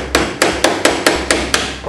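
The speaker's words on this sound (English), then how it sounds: "get a hammer and just give it a bang" A hammer strikes a chain link clamped in a vise, giving seven sharp, evenly spaced metallic bangs in quick succession, close and loud, with no talking.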